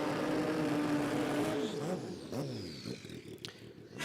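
Drag racing motorcycles at a street-performance jamboree in Brisbane scream down the strip, a loud sustained high-revving engine roar that sweeps into rising and falling Doppler whines as they pass, with a faint voice underneath.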